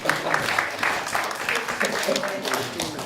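Applause rises from an audience, with many hands clapping in a dense patter while voices talk over it.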